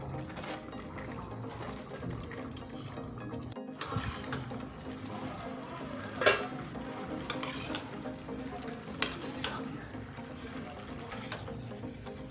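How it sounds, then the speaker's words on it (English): A vegetable fish stew being stirred in a pot: soft liquid sloshing and occasional utensil clinks against the pot over a low simmering background, fairly quiet and steady. "I'm going to stir it."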